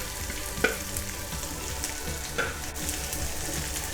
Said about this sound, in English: Now I'm going to add my onion.